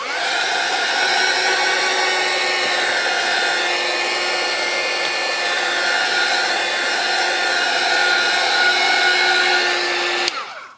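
A heat tool blows hot air to dry gesso on a craft background with a loud, steady whirring hum that stays constant for about ten seconds, then cuts off abruptly.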